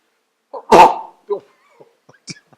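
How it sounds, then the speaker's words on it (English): A single sharp sneeze bursts out close by, followed by a few faint small sounds and brief quiet breaths. "That was a sneeze."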